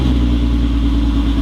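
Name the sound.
Volkswagen GTI VR6 engine starting, muffler delete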